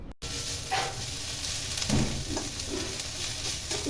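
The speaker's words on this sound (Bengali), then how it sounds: "আর এইদিকে আমি সজনে ডাঁটাটা ভেজে নিচ্ছি" Drumstick (moringa) stalks sizzle as they fry in a pan in a home kitchen, a steady close hiss of oil with occasional stirring scrapes and no talking.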